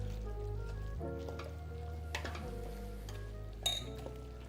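A spoon stirring meatball stroganoff with smoked paprika in a pot, giving a few soft scrapes and a sharp metallic clink near the end over a faint sizzle, with music playing underneath.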